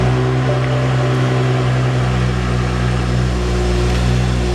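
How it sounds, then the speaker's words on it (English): A 2011 BMW 335i Cabriolet engine idles just after starting, a steady low exhaust hum with a constant droning tone, close and unbroken throughout. "So your typical 335 exhaust."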